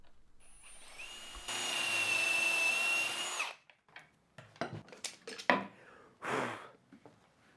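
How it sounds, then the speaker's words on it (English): A power drill whines steadily for a couple of seconds while drilling holes through a Peanut mini jig, then stops, followed by several sharp knocks and clatters of wood and tools close by. "Drilling the holes for the peanuts, the jig setup and use is identical to that of the 6mm dowels."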